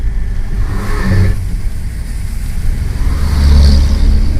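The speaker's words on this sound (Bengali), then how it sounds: "প্রচুর আর্মি ট্রাক যাচ্ছে।" Heavy army trucks pass along the Leh–Manali highway, a loud continuous engine roar with low rumble swelling as one goes by near the end, no talking.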